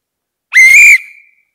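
A single shrill whistle blast on stage in a live performance of The Sound of Music musical, loud and close, holding steady for about half a second before trailing off quickly into silence.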